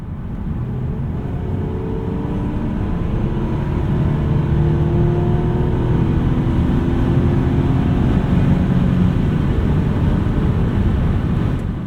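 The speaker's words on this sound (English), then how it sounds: "We have finished our test drive of the 2005 Toyota Solara." A 2005 Toyota Solara coupe heard from the cabin on a test drive: a steady, loud low engine and road drone that rises slightly and holds for about twelve seconds, with no talking.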